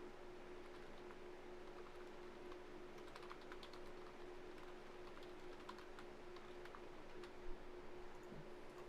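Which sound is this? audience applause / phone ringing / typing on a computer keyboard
typing on a computer keyboard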